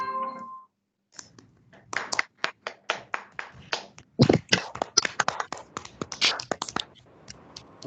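Seminar audience applauding after a talk, a small group clapping that starts sparse, swells into dense claps for a few seconds, then thins out; no speech over it.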